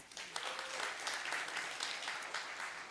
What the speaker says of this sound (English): Round of applause for daily wipes